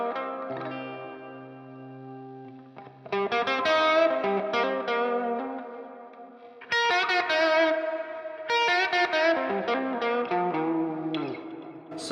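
A 2001 Gibson Les Paul Gary Moore electric guitar plays ringing chords and picked phrases through chorus, echo and some distortion, in bursts with brief gaps and a low sustained note at the start.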